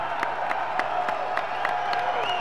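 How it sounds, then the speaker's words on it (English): A crowd at a mixed martial arts fight roars with sustained cheering and applause, a steady dense wash of clapping and shouting with a few sharper whoops poking through. "This crowd's going wild."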